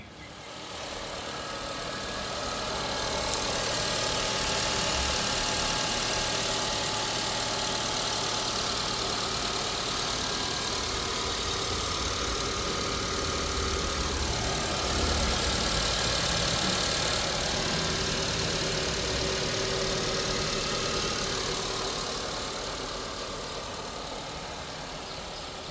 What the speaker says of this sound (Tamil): இப்போ வண்டியோட இன்ஜினை ஸ்டார்ட் பண்ணி இன்ஜின் நாய்ஸ் எப்படி இருக்குன்றத கிளாரிட்டியாக உங்களுக்கு நான் காட்டுறேன்